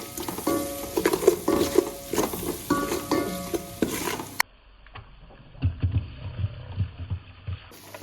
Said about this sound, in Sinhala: අපි ඊට පස්සේ ඒ ටික ඔක්කොම මෙන්න මේ විදිහට කවලම් කරගන්නවා